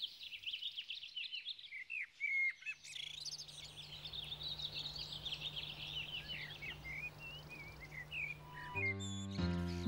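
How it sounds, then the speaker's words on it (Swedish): Birdsong in spring: several birds chirp and trill in varied high phrases throughout, fairly close and clear, over a low steady hum, with a brief tonal sound near the end. "Det luktar vår och fåglarna sjunger."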